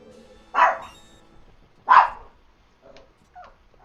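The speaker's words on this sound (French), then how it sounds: "Il gueule beaucoup ce chien." A real dog in the room barks twice in loud, sharp bursts about a second apart, followed by a couple of fainter yips and whimpers, with no talking over it.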